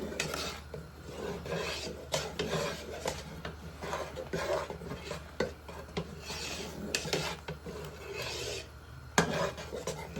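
A spoon scrapes and rasps steadily against the bottom of a pot of bubbling homemade strawberry jam, making a continuous rhythmic rubbing with soft bubbling beneath it and no talk.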